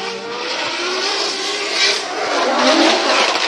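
Drift cars at Formula Drift Japan in Ebisu sweep through a chicane, a loud, continuous engine roar with rising revs and tire noise filling the whole stretch, swelling slightly near the end.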